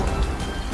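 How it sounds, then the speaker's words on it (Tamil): Steady heavy rain with a low thunder rumble underneath, a dense continuous wash of sound with no voices. "இப்படி மழை பெஞ்சுக்கிட்டே இருக்கு"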